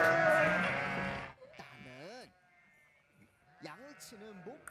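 Sheep bleating at a kindergarten worship service: after a loud voiced sound, two short, wavering bleats follow close by, separated by a quiet gap.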